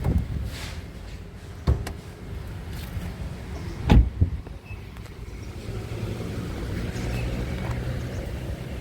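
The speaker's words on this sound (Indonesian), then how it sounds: "Oke, kita buka dulu kap mesinnya, kita lihat." Someone opens the hood of a 2016 Mazda 2 Skyactiv. Against a quiet background there are a few close, soft clunks and thumps from the latch and the lifting hood, with faint handling noise between them.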